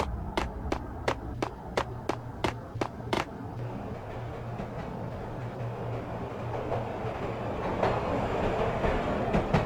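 A train starting to move in the Max Payne video game: a run of sharp metallic clanks, then a low rumbling roll that builds gradually. There is no talk.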